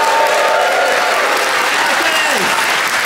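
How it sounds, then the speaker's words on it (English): Audience clapping on stage at a cruise orientation event aboard ship, a loud dense wash of applause sustained throughout, with a faint voice and crowd murmur mixed in. "Please clap for him"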